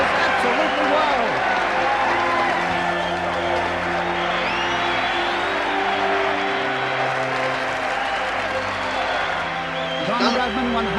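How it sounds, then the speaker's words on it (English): A cricket ground crowd at a Test match cheering Don Bradman's century: sustained loud roar with applause, whoops and cheering from a large distant mass of spectators, under a commentator talking throughout. "The crowd goes absolutely wild."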